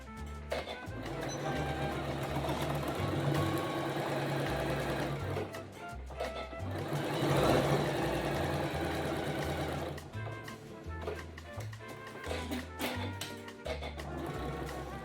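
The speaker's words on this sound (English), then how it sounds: "you're going to start off in the top corner, and we're going to sew all the way down, pivot, and go all the way back up" Sewing machine stitching fabric bunting triangles, a steady loud mechanical whirr running continuously with rhythmic needle chatter and brief pauses for pivoting.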